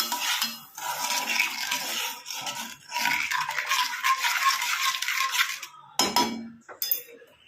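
Hair dye mixture is stirred in a metal vessel, a spoon scraping and clinking in bursts of gritty strokes with short pauses between them. The sound is close and moderately loud, and no one speaks.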